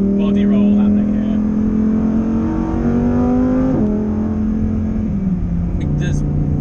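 A Lamborghini Huracan Performante engine, loud and close on track, drones steadily, then drops pitch through a series of downshifts with brief blips.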